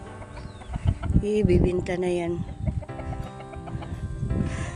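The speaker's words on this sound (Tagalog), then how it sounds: "Habang papatagal ng patagal, dumadami yung mga manok." A flock of growing chickens raised for sale clucks and calls close by while someone talks over them in Filipino.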